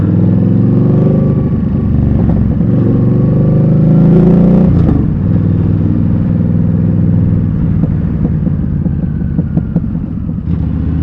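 A bigger motorbike passes on a road near Skegness, its engine a loud, close, rumbling drone that swells toward the middle, then fades into a steady hum with some rattling clatter.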